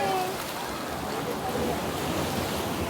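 Ocean surf breaking at a beach in Mariveles, Bataan, heard as a continuous broad wash of water with some wind noise across the microphone.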